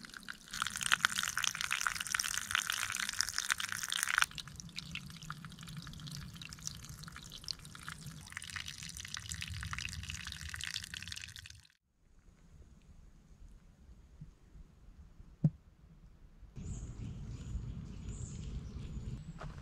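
Water from a forest spring in Germany's Spessart nature park trickles and drips steadily nearby, a soft continuous flow that thins out partway through before a fuller rush of water returns.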